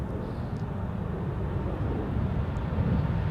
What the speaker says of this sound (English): And this is KLM flight 741 to Bogota,